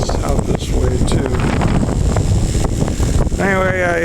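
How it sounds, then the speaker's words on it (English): Strong outdoor wind roars steadily across the microphone on a gold-prospecting tailing hill, buffeting throughout with a machine running and a voice talking over it. "It's getting super windy out here."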